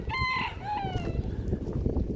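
Chickens on a desert farm in Kuwait near the Saudi border give a couple of drawn-out, nasal calls and clucks over a rough, windy outdoor background.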